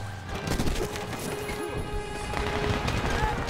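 Rapid SAW machine gun fire in the Medal of Honor video game, a dense continuous burst rattling throughout with other game sounds mixed in and a voice talking over it.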